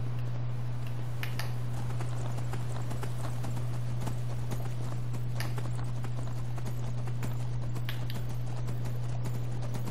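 Horse hooves clip-clop in a steady, even rhythm over a constant low hum, moderately loud, in Skyrim.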